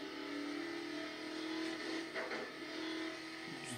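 In the video game Need for Speed Most Wanted, a Nissan GT-R revs and spins its wheels, producing a continuous high engine whine that rises and falls, heard alone without talk.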